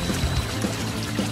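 Water is poured in a short, continuous splashing stream with faint gurgling pulses, close and steady, with no talk.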